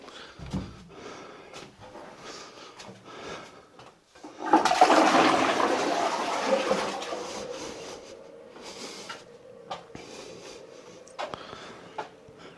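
A toilet flushes in a farmhouse under renovation in Portugal: a loud rushing surge of water starts partway through, then tapers into a softer trickle and refill, with light shuffling and handling noises around it.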